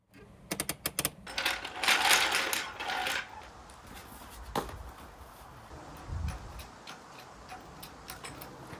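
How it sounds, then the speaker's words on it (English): A run of sharp mechanical clicks from the handbrake ratchet of a VW Golf Mk4 GTI, close and fairly loud, followed by a brief rush of broader noise and a few scattered ticks. "I'll get you some handbrake clicks."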